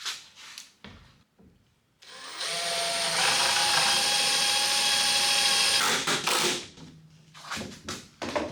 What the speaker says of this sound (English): So now all we need to do is clamp up and then drill our screws in